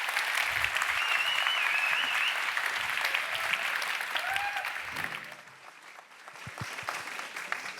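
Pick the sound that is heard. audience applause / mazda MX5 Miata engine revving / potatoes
audience applause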